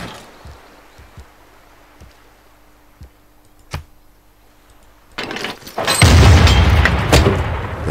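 A muffled cannon boom fired from a fort in the video game Civilization VI sounds amid soft thuds, followed by a loud rushing blast and crackling debris that lingers for a couple of seconds.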